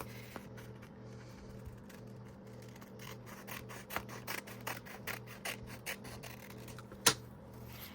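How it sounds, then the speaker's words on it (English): Scissors snip along the edge of a paper junk journal in a run of quick, crisp cuts, faint and close with a sharper snap near the end, no voices. "I'm going to snip off the opposite edge"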